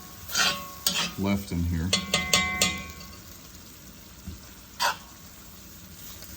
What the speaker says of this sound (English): See how they're starting to sizzle?